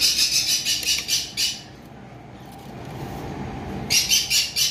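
Caged pet birds for sale call in bursts of loud, rapid squawking chirps, pausing briefly before another chattering flurry over a low market background.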